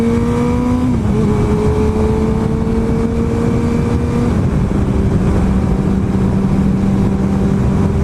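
A 2006–14 Suzuki GSX-R 600 sport bike fitted with GP-shift holds a loud, close, steady engine drone, with its pitch stepping down at each gear change as it rides along; no one speaks.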